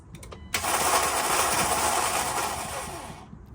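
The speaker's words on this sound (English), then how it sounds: "As you can hear, that starter is not working" A car engine cranking on a failing starter at a mobile mechanic job in Houston gives one steady grinding churn of about three seconds, then cuts off, with no voices over it.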